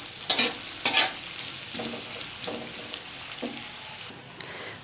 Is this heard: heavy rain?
no